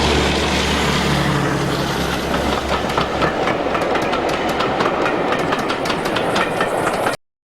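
Class 33 diesel locomotive 33202 departs Yarwell Vale with a heavy engine rumble under rhythmic clacking of wheels over rail joints, steady and loud until the sound cuts off abruptly.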